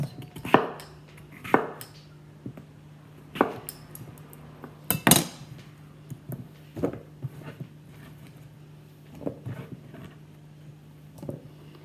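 A knife dices fruit for a fruit salad on a cutting board, several sharp separate chops with pauses between them, close and clear, some clustered strokes and lighter taps.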